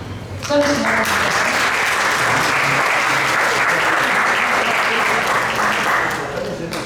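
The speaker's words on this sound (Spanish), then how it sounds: "con quien vamos a recibirlo con fuertes palmas" Sustained applause from an audience at an institute's academic event on financing for small and medium businesses, a dense steady wash of clapping lasting several seconds before fading slightly at the end.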